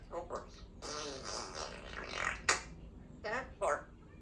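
An African Grey parrot imitates a fart with its voice, producing a few short raspy bursts mixed with mimicked speech-like sounds, close and fairly loud in a quiet room.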